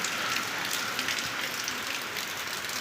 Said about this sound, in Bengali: প্রচুর ধারায় বৃষ্টি হচ্ছে